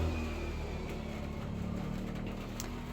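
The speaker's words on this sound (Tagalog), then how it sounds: "Ang daming mga sasakyan na mga motorsiklo na umuwi." Cars and motorcycles go by in the rain outside a roadside shop, a steady low engine rumble with some revving, heard continuously and moderately close with no talk.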